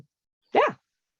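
A single short bark from a pet dog on its birthday, close and fairly loud in an otherwise quiet room, with nothing else around it.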